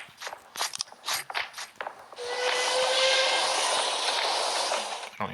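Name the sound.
enemy train in Pixel Soldiers The Great War video game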